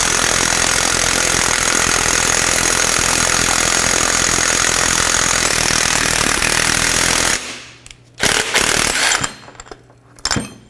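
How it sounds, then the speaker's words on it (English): A ball joint press is tightened to push the front upper ball joint out of the control arm on a 2004-2008 Acura TL. It makes a loud, steady rattling hammer for about seven seconds, then stops, followed by a few short bursts. "I'm going to take my tool, tighten this up, and that's going to squeeze the ball joint out of the control arm."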